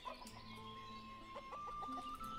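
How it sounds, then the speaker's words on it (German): Chickens clucking in the village-building game Ostriv, several short soft clucks and squawks from a flock of hens, faint and close together, with no talk. "die Hühner."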